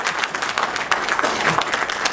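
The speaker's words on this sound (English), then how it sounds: "Give a big round of applause" A seminar audience gives a big round of applause, a thick wash of many hands clapping close and loud throughout, with a faint murmur of voices beneath.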